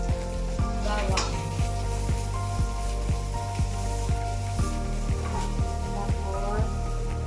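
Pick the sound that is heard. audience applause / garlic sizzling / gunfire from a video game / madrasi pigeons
garlic sizzling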